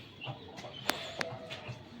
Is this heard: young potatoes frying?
no